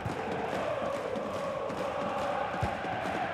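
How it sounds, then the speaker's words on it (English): A large football stadium crowd roars continuously during a Hannover 96 Bundesliga match, a dense, steady wash of cheering and chanting with no break. "Just listen to the crowd, Derek, urging their team on."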